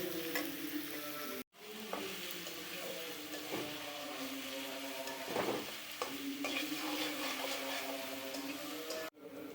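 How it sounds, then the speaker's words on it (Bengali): Onions with green chilies fry in a pan with a continuous close sizzle, broken by the scrape and clatter of stirring, with two sharp knocks from the pan or spoon. "এখন আমরা পেঁয়াজটাকে ব্রাউন করে ভেজে নেব।"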